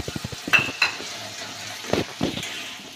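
Green peas stirred into a frying spice paste, with quick taps of a spatula against the pan, a low sizzle, and a couple of firm scraping strokes.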